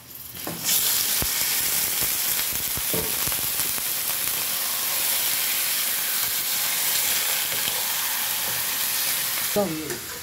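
Beef for a beef stew drops into a hot pan and breaks into a loud, continuous sizzle that holds steady for about nine seconds, close and with no talking.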